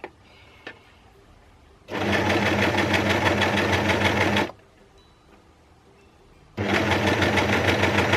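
A sewing machine stitches a seam on a stretch-knit Joni dress, running in two steady, loud bursts of a few seconds each, separated by a quiet pause.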